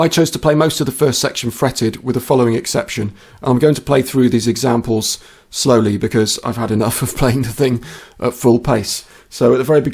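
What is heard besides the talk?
No everyday noises stand out.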